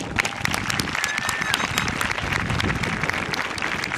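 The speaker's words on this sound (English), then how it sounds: "Let's give them all a round of applause." Graduation ceremony audience applauding, a dense, steady wash of many hands clapping that holds at a constant loud level throughout, with faint voices mixed into the crowd noise.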